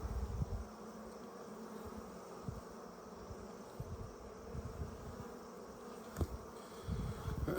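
Honey bees swarm around a hive frame lifted from an opened colony, a steady close buzzing drone that carries on without pause, with a few soft knocks and handling bumps mixed in.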